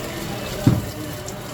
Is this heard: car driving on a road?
no